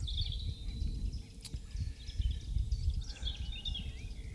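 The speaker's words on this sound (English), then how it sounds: "listening to the birds singing" Faint birdsong chirping in the distance over a low, rumbling wind-like background.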